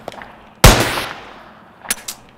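A single loud gunshot from the pixel-art horror game Animal Village goes off with a sharp crack and a ringing tail, then two quieter follow-up shots come near the end, with no talk.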